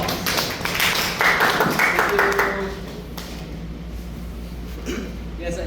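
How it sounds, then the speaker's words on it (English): Audience clapping at a Toastmasters-style event as speaker Brian Tan is welcomed to the stage, a burst of moderately loud applause that fades out after a few seconds. "Round of applause."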